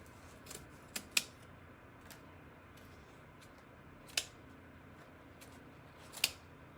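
Scissors snip paper tails for a Halloween jack-o'-lantern craft, giving about five short, crisp cuts spread irregularly over a quiet room.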